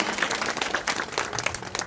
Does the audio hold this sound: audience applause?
yes